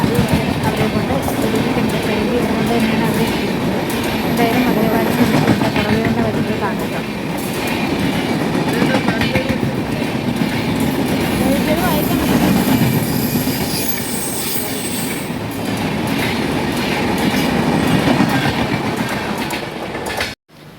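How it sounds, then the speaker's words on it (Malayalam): A Vande Bharat train rumbles steadily close by as it arrives, wheels clattering on the rails with occasional high metallic squeals, loud and continuous until it cuts off abruptly at the end. "അപ്പോൾ അതാ വന്ദേ ഭാരത് എത്തിയിട്ടുണ്ട്"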